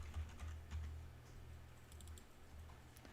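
Rapid, light keystrokes on a computer keyboard during web design work, a quiet continuous patter over a low steady hum, with no voices.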